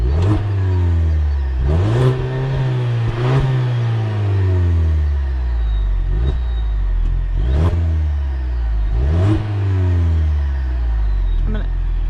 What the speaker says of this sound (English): I'll do a few revs